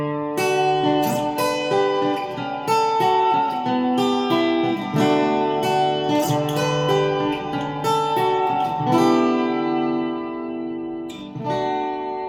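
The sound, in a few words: Natasha Asteroid smart guitar strum effect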